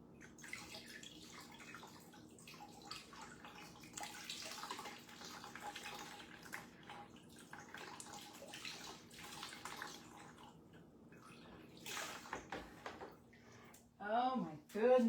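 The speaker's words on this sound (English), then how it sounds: "let me rinse it real quick" Tap water running steadily as a marbled item is rinsed, a soft continuous splash with faint drips, under occasional talk, ending with a louder burst of flow.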